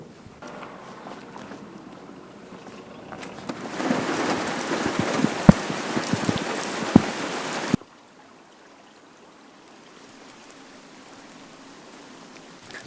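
Rain pours down steadily outdoors on a hiking trail in the Slovak Paradise, a broad hiss of drops on surfaces that swells loud in the middle and then cuts to a quiet, faint patter.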